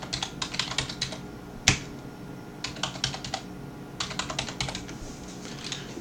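Fingers type on a computer keyboard in quick clustered bursts of crisp key clicks with short pauses between, close and clear in a quiet room.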